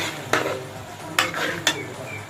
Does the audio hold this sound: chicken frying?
yes